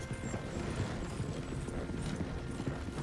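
Steady clip-clop of horse hooves trotting, close and continuous, with a faint background hum and no talking.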